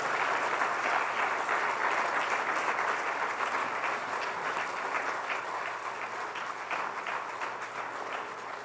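A church congregation applauds in a long, dense wash of many hands clapping, loud and steady at first and easing slightly toward the end, with no voices over it.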